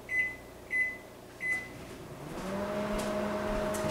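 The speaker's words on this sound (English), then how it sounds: "I'm going to heat these up in the microwave" A microwave oven heating soap: three short, bright beeps as it is set, then the steady hum of the oven running with a whir underneath, close and alone.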